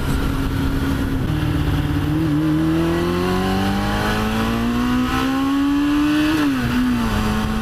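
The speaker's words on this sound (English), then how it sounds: "You can literally hear it climb onto the cam." A 1996 Yamaha FZR-600 motorcycle engine revving hard and climbing onto the cam, its pitch rising steadily over several seconds with a brief dip near the end, loud and sustained without talk.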